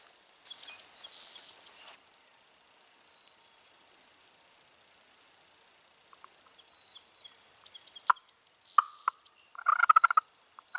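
A hand-operated turkey call making soft putts and purrs in the spring Wisconsin woods, faint at first, then a cluster of short, clucking bursts toward the end, imitating a wild turkey.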